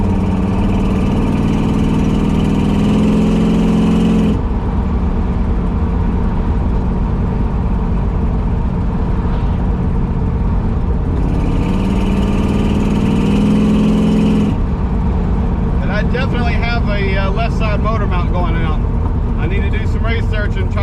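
A 1968 Dodge Charger R/T with a Holley carburetor rumbles at a steady, loud idle, with the tone shifting slightly partway through and voices talking over the engine toward the end.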